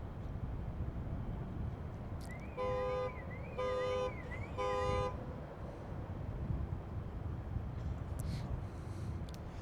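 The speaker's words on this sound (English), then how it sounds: "Kind of unauthorized car noise here on the tarmac." On the airport tarmac at Palm Beach International, a car horn sounds three short, evenly spaced honks, faint and somewhat distant, over a constant low rumbling background.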